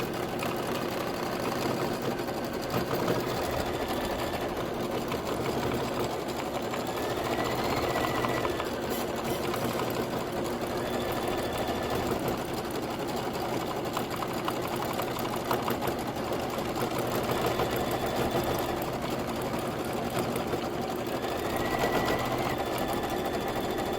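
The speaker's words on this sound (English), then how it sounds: "So now it's going to go ahead and stitch again." A Kimberbell embroidery sewing machine stitches continuously over an outline and fold line on a taco cord organizer project, producing a steady, loud, unbroken mechanical hum with faint rhythmic variations throughout.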